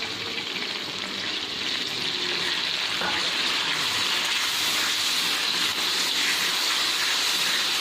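Onion and ginger-garlic paste fry in hot oil in a kadai, giving a steady, loud sizzle and hiss throughout with a brief stir partway.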